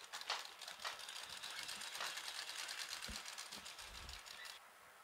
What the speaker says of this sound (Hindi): अब हम इसमें सिलाई लगा लेंगे।